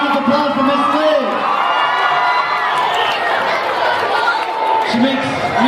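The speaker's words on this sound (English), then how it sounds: "Big round of applause for Miss Liz." At a school Black History celebration, a crowd claps and cheers with children's shouts and whoops mixed through steady chatter, a lively, continuous roar of voices.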